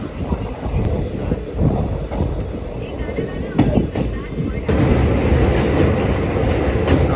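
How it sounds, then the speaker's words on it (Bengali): A passenger train running from Digha toward Howrah after leaving Kanthi station rumbles steadily along the rails with rhythmic clacking, a loud continuous roar that swells partway through. "এখানে ট্রেন 2 মিনিটের হল্ট দিয়ে কাথি স্টেশন ছেড়ে দিয়েছে আবার সাঁতরাগাছির উদ্দেশ্যে।"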